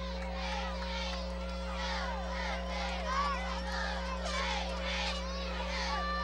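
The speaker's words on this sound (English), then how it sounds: "Got a nice crowd out here on a beautiful night for football" Spectators murmur and chatter in the stands at a night high school football game between Hazard and Pikeville, a steady crowd hum heard faintly beneath a low electrical drone.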